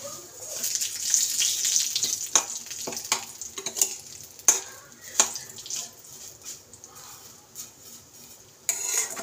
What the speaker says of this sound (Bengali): তো এটা একটু বাদামটা ভাজা হোক